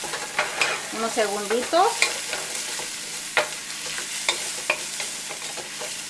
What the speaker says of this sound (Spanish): Le vamos a agregar primero el ajo. Lo vamos a dejar por unos